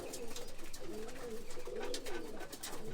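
Pigeons coo steadily in a loft, a low rolling burble repeating through the moment, close and continuous with no voices over it.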